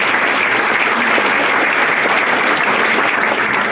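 Loud, sustained applause from a crowd at Miamisburg High School's Hall of Fame induction ceremony, a dense, even roar of clapping that fills the whole stretch without a break.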